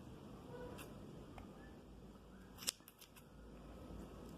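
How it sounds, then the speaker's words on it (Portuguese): Scissors snip through old socks in a brief close cut, a quick sharp click and rustle standing out from faint room noise, with a few smaller snips after it. "Então, vamos cortar aqui assim, ó."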